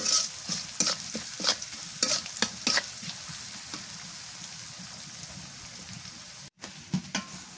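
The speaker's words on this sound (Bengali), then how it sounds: "হালকা করে ভাজি পেঁয়াজটা আর একটু হালকা করে ভাজা" Onion fries lightly in a pan for a chilli and taro-stem dish, a constant sizzle broken by rhythmic scraping stir strokes early on, then a smoother hiss with a brief dropout, close and without talk.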